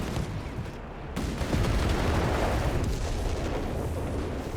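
Crusader tanks fire in a Company of Heroes 3 match. The battle noise is a dense, continuous rumble of cannon blasts and booming impacts, loud and unbroken across the whole stretch.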